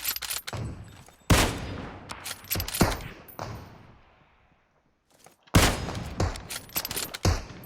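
Rapid automatic gunfire in PUBG Mobile, loud close bursts of shots broken by a short silent gap, then more firing, no speech.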